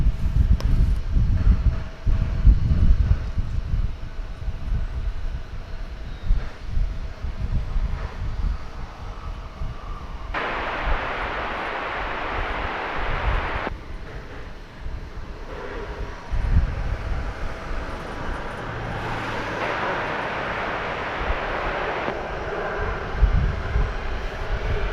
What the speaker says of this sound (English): Polar Air Cargo with a DHL tail to 767